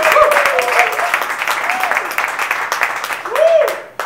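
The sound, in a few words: audience applauding a guest wildly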